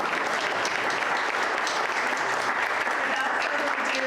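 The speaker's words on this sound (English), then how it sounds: "You're not going to clap for that?" An audience at an Asian-American poetry day event claps after a poem, a steady, dense wash of many hands sounding continuously and alone throughout.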